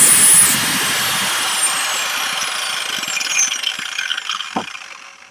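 Repaired DeWalt 4-1/2 inch angle grinder running up to speed, a loud high-pitched motor whine that holds steady and then winds down as the tool is released.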